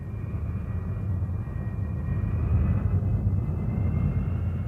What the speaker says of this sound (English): The Me-262 is the world's first fully operational jet fighter aircraft.